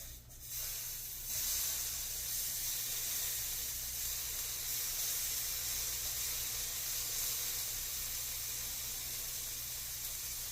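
Tomatoes hitting a hot pan of toasted spices while it is deglazed, a loud burst of hissing steam and sizzle that settles into a steady broad hiss.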